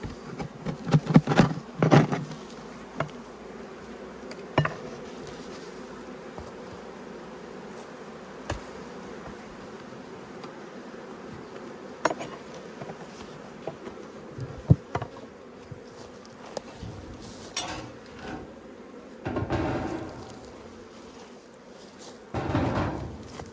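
Honey bees buzz around an open hive in a bee yard, a steady faint hum with individual bees passing close, mixed with knocks and clunks of hive boxes being handled.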